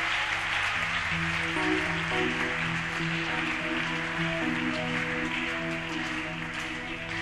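A congregation at a Bible convention applauds and cheers in a dense, sustained wash of clapping, with steady musical or sung tones running underneath.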